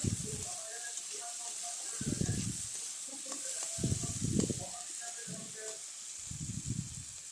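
A soft, steady sizzle of garlic and ginger frying in oil in a pan, broken by several low thumping stirs and scrapes, close and moderately quiet.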